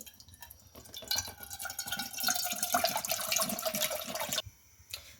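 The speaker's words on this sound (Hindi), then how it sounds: "सबसे पहले एक देचकी में 3 कप पानी डालें।" Three cups of water pour and splash into a metal cooking pot for a few seconds, rising in pitch as it fills, then stops with a faint clink.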